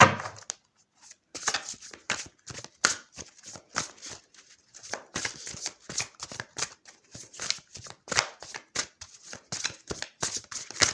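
Tarot cards shuffled and drawn by hand, a steady run of crisp riffling and slapping card sounds, close and fairly loud, with faint speech at moments.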